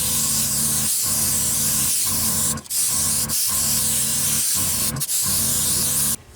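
An airbrush fed by a compressor at 35 psi sprays Createx paint in repeated hissing bursts. Each burst lasts about a second and is split by brief pauses as the trigger is released, close to the mic with no talk.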